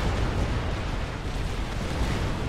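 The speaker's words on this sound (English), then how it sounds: "What was that explosion? Oh, huge land battle now taking place." Explosions rumble through a large land battle in the real-time strategy game Supreme Commander FAF, a dense, continuous low roar of overlapping blasts that holds steady throughout with no clear gaps.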